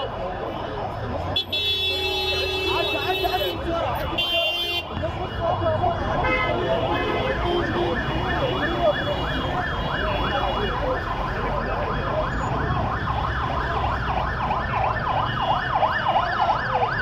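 An ambulance siren wails in a fast, repeating cycle amid street traffic at a motorcycle accident scene, loud and close, with voices talking over it.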